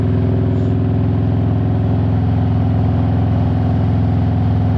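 A Harley-Davidson Road Glide motorcycle idles loudly and steadily nearby, its throaty loud exhaust pulsing in an even, deep rumble.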